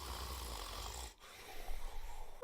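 A voice imitates a person's snoring during a night on a school trip to the Bahamas, a rough, breathy rasp with a brief pause in the middle before a louder, uneven second stretch.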